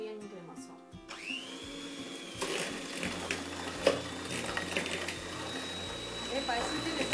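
An electric hand mixer whirs steadily at close range, its motor humming and buzzing continuously as the beaters churn cookie dough.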